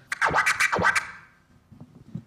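A one-click flare turntable scratch cuts in with rapid chopped bursts for about a second, then fades into faint background clicks.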